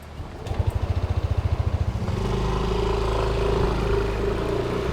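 A motorcycle on a test ride starts up with a quick rhythmic cranking, then catches and settles into a loud, close, steady engine drone that rises slightly in pitch.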